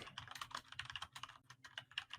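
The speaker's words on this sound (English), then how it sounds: "Who's typing? Please mute if you could." Rapid, uneven clatter of fingers typing on a computer keyboard, close and fairly quiet, coming through a voice call during a tabletop role-playing session with no one speaking.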